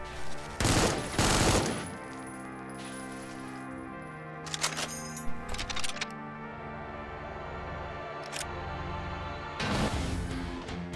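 Gunfire in the shooter game Supplice, with loud bursts of shots near the start and end and scattered quieter shots and impacts between them over a sustained game soundscape.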